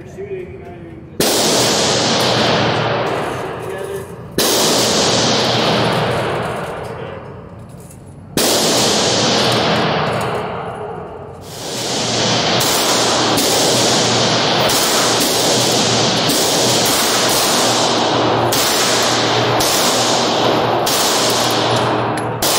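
Pistol shots from a Canik Rival fitted with Vortex Venom optics crack sharply at an indoor shooting range, a loud report every few seconds that turns into quicker shots later on, with ringing reverberation between them.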